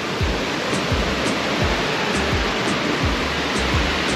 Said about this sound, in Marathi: मात्र हा धबधबा अतिशय सुंदर आहे